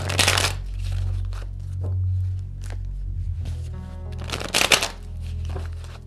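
Tarot cards being shuffled before a single card is pulled, with crisp riffling bursts at the start and near the end over a low steady hum, no speech.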